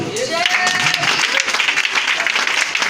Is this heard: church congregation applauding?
yes